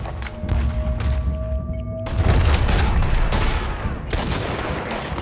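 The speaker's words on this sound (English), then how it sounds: "That was the third shot." Gunfire rings out in Red Dead Redemption II, a heavy shot launching a dense rumbling burst of shooting and booms over a steady background hum, with a further sharp crack near the end.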